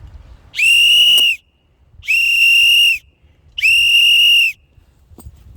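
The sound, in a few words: whistle blown to scare wild boars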